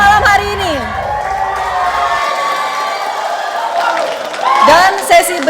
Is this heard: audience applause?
yes